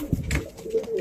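A racing pigeon in a loft gives one soft, close coo on a morning, short and clear with only faint background sound.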